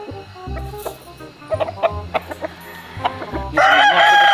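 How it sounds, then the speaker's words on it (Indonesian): A tame pet rooster makes loud, close clucks and short calls in bursts, then breaks into a strong crow at the end. "ini ayam jagoku kawan-kawan ayam yang paling aku sayang"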